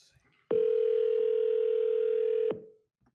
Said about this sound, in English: Calling right now.